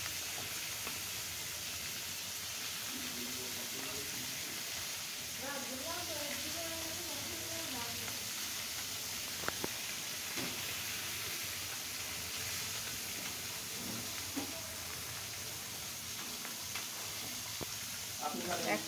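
Oil sizzling and hissing in a hot pan, about to fry lentil dumplings (dal bori) for a rohu fish and potato curry, a steady crackling hiss that runs throughout under a voice.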